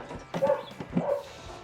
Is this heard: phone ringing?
no